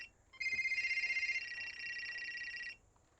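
A telephone rings indoors in a household, a bright electronic trill that pulses rapidly for a few seconds and then stops.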